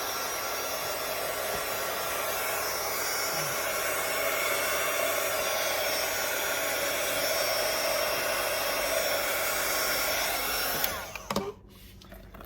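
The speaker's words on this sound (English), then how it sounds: "I just want to heat up the vinyl, the clear vinyl." Hair dryer or heat gun blowing hot air onto clear vinyl of a sewn clutch bag, a steady close-up whooshing whir that holds for about eleven seconds before switching off.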